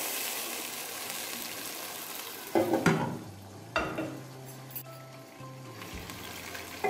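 Onions frying in a pan for chicken pulao, a steady broadband sizzle with a few louder stirring scrapes and clinks partway through, close and continuous with no talking.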